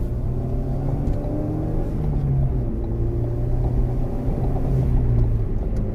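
A Ford Focus ST with a solid drag engine mount pulls away slowly in first gear without boost, giving a steady low engine rumble and drone with shifting tones and no voices.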